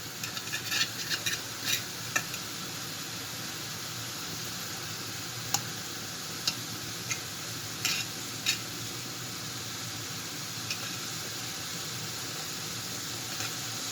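Minced meat meatballs browning in a pan for a Moroccan vegetable tagine, a steady close sizzle with small scattered ticks and pops running throughout, no voices.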